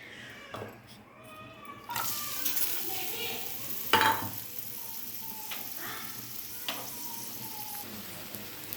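Onions frying in groundnut oil with salt for a crab-leg curry, a soft steady sizzle broken by a few scraping stirs and clinks, with faint cat meows in the background.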